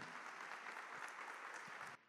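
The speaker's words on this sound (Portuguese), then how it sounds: "vou pedir uma salva de palmas" Audience applause at a civil-society talk in Maré, a short burst of many hands clapping at a distance, fairly faint and even, cutting off abruptly near the end.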